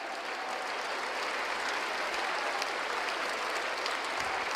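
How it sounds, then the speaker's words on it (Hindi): Audience applause for Praman Sagar Ji Maharaj at a gathering fills the air, dense and steady, with no break for its full length. "इतनी कमजोर ताली बजाओगे प्रमाण सागर जी महाराज के लिए?"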